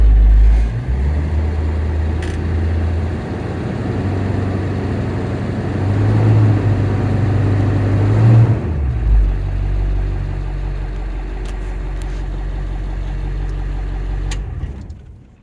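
A Navistar T444E diesel in a 1998 International 3800 bus runs close by with a heavy, steady idle, revs up and down, then drops back to idle before cutting off.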